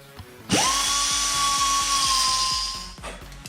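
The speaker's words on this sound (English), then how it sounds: "this is the tool you're gonna need. Cut-off wheel, air compressor, and here we go." An air-powered cut-off wheel driven by an air compressor, used while fitting new wheels on a Smart car, spins up with a sudden loud high whine and holds steady for a couple of seconds before winding down.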